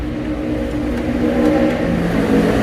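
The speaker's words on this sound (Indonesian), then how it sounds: "ini di bagian mesinnya menggunakan mesin 2000 cc bensin, masih sangat rapi sekali dan masih bersih" A 2000 cc petrol engine in a Toyota Innova runs steadily in a car showroom, a close, continuous mid-pitched hum with a faint whir and no talk.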